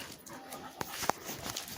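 A dog gives a couple of short, high whimpers close by amid faint background noise.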